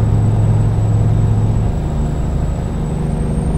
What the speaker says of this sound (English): Hey, is the truck too loud?